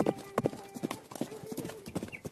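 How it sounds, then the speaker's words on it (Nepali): Galloping horse hooves from a Nepali folk tale clip-clop in a steady, quickening rhythm as they draw nearer, with a voice talking over them. "त्यो घोडाका आवाजहरू झनै तेजीसँग विष्णु भएतर्फ आउन लाग्यो"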